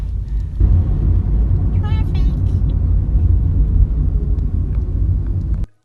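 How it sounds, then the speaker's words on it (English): Heavy road traffic in downtown Los Angeles, heard from inside a car as a steady loud low rumble of engines and tires, with voices talking over it and a brief tonal squeal partway through. "Look at the traffic. This is downtown LA."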